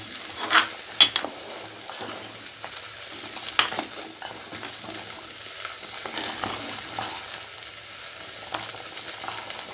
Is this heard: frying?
yes